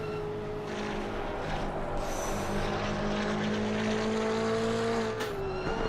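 Multiclass endurance race at Oulton Park in Assetto Corsa Competizione, with a Porsche among the cars: loud, steady engine drone from close race cars holding pitch, with a sharp downshift dip near the end, no talk.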